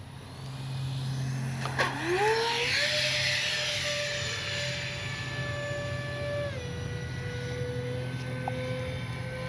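An E-flite Airbus A320neo radio-controlled jet with electric ducted fans flies past: a rising whine swoops up, then settles into a steady high-pitched drone that drops slightly in pitch near the end, over outdoor background noise.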